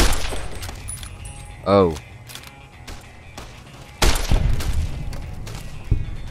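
Gunfire in Fallout New Vegas: a few sharp, loud shots cracking out in separate bursts, with a man's short startled exclamations around them.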